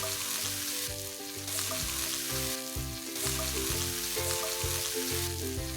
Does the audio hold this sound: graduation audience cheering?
no